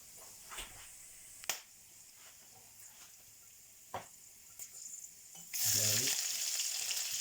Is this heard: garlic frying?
yes